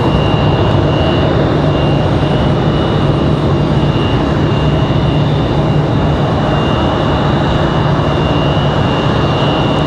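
Airliner landing at Raleigh-Durham airport with flaps down and spoilers up, a loud continuous engine roar with a steady whine, sustained throughout without voices.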